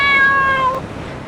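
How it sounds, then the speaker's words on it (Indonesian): A cat lets out a single clear, drawn-out meow close by, rising and then tailing off in under a second with no other sounds around it. "Kucing lu meletet banget"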